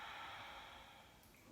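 A single long, soft inhale through the nose during a half moon yoga balance pose, faint and close against quiet room tone.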